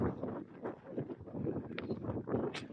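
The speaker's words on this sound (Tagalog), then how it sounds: "Mahangin ngayon." Strong wind sweeps across a farm in Cyprus, a steady, gusty broadband rush with buffeting against the microphone that swells and eases throughout, with no voices.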